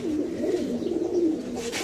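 A single pigeon, a female offered for sale, gives a soft, low cooing call close by, a rolling coo that holds for a couple of seconds.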